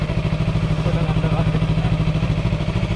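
A Yamaha R3 motorcycle engine runs steadily with a pulsing low rumble, close and loud, a rhythmic throb throughout.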